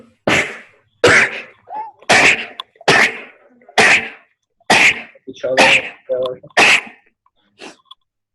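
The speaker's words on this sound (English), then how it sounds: "Somebody sneezing?" A series of about nine sharp sneezes during a workshop lecture, evenly spaced and loud, with a couple of brief words mixed in.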